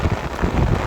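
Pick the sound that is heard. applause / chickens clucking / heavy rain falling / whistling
heavy rain falling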